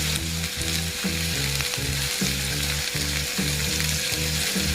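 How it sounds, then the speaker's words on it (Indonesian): Onion and chili sauté in hot oil in a pan, producing a loud, dense, continuous sizzle close up. A rhythmic stirring pulse repeats throughout, and no voices are heard. "Ini kita tumis sampai harum"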